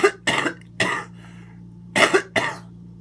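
A person coughs repeatedly in a series of five harsh, chesty bursts with brief pauses between them, close and clear with no speech.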